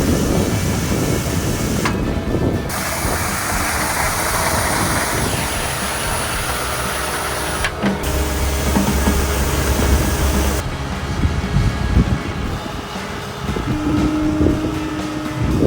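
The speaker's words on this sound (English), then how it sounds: "Now that we got the brush spinning, let's give this thing a shot and see if it cleans like it's supposed to." A cleaning machine with its brush spinning runs loud and steady, a continuous whirring, motor-like roar with no pauses and no voices.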